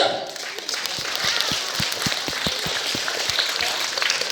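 Audience applause at a magic show, steady clapping from a crowd, fairly loud and continuous, individual claps standing out against a dense wash of hands.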